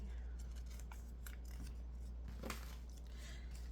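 Scissors snipping through ribbon, a few quiet crisp cuts spaced over a few seconds against a low steady hum, with no talking.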